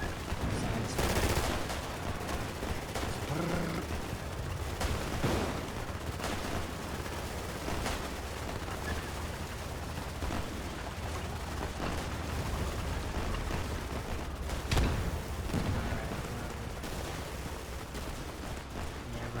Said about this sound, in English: the PPSH is just such a nice gun. It just fires so satisfying.